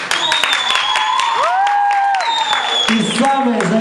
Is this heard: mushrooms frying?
no